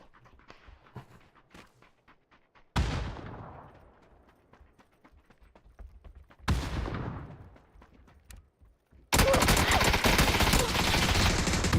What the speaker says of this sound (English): Bro, that was 2 shots in that dude's head.